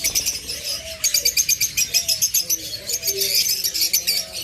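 Pet cage birds, among them lovebirds, cockatiels, budgerigars and finches, chirp in a dense, rapid chorus of bright repeated calls that continues throughout, with no talking.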